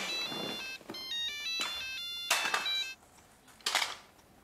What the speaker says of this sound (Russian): Ну что, твой телефон? А кто тебе звонит?